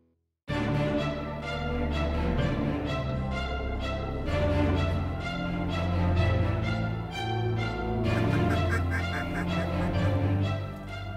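Large flocks of ducks and geese calling at a hunting spot, a dense chorus of honks and quacks, loud and continuous, with several nearby birds standing out over the distant mass.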